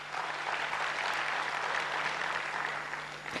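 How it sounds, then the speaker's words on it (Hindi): Steady, dense applause from a large audience at a spiritual lecture hall, filling the whole stretch evenly at moderate loudness with a faint low hum underneath and no voices. "अभी जोरदार तालियां बजाइए।"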